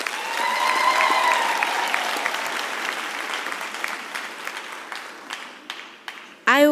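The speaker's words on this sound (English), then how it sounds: "Let us give her another warm round of applause." Audience applause at a university graduation ceremony, a warm broad wave of clapping with voices over its start, gradually thinning to scattered claps before a speaker resumes at the end.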